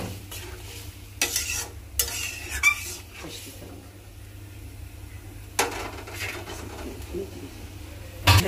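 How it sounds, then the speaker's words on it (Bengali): Shrimp and spices being fried and stirred in a pan, with a steady sizzle under repeated scraping stirs and clinks of a utensil against the pan, close by, with some faint talk in the background. "চিংড়ি মাছ আর মশলা কষাই নিতেছি"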